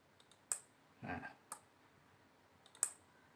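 A solenoid door lock, driven by a Raspberry Pi face-scan system, snaps open with sharp, close clicks: three crisp clicks spaced over about three seconds, with a short soft thud in between.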